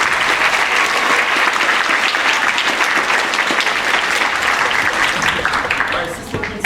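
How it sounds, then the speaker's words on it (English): Loud, sustained applause from an audience at a middle school winter concert, a thick, continuous roar of many hands that fades toward the end as a voice comes in. "If you can give him a round of applause."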